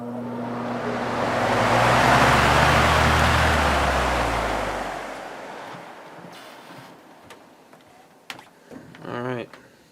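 A 1970s Lakewood HV-18 electric fan roars with a broad whoosh and low motor hum on high, then gradually winds down and fades, followed by a brief bit of speech.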